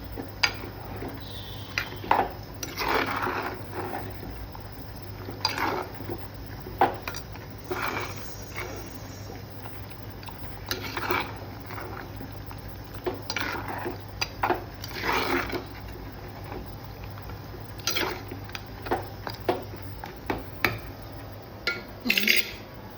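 Cooked mutton stirred into boiling ground masala in a pot for kala mutton, with a spoon scraping and clinking against the pot in intermittent bursts over a low steady bubbling background, with no talking.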